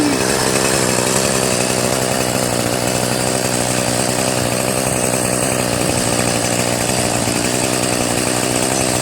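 A Troy-Bilt TB70SS 33cc gas weed trimmer runs close by with a steady, high-pitched two-stroke whine that holds an unbroken drone for the whole stretch.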